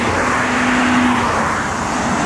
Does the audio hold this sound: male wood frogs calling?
no